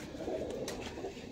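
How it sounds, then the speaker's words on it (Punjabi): A Kasuri pigeon coos on a rooftop, a low, soft, rolling call heard close and alone, with a brief sharper sound partway through. "ਬਹੁਤ ਸ਼ਾਨਦਾਰ ਕਸੂਰੀ ਕਬੂਤਰ ਹੈ"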